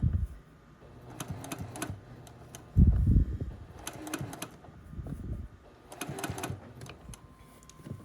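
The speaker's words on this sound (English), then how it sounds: "I just finished stitching down all of our first pieces" Domestic sewing machine running straight stitches to tack down appliqué flower pieces on a scrappy sampler quilt block, heard as short bursts of rapid mechanical whirring with pauses between runs, fairly close and moderately loud.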